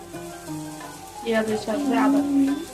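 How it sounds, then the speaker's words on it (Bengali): Onion with ginger-garlic paste frying and being stirred in a pan, a steady close sizzle with scraping stir strokes, joined by a tonal voice-like hum in the background. "পেঁয়াজের সাথে আদা রসুন বাটাটা ভালো করে একটু নেড়ে চেড়ে দিলাম, ভেজে নিলাম"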